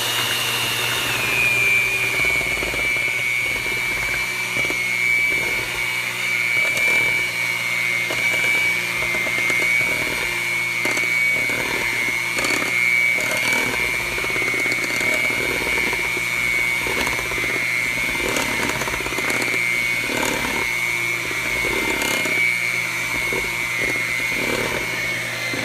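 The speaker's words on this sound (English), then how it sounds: "Get your mixer. And we're going to mix our medium" An electric hand mixer whirs at medium speed for cake batter, a steady close motor whine holding one pitch throughout with faint scraping underneath and no talking.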